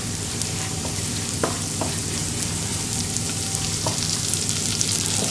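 Pine nuts fry in hot oil in a pan, a steady close sizzle and crackle with a few sharp pops and faint stirring scrapes, no voices.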